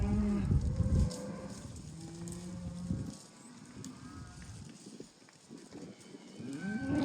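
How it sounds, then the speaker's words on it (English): Cattle moo on a farm where Mashona cross calves are being moved. The low, drawn-out calls come several times, some near and others farther off, over a faint outdoor background. "That old black cow right there at the back"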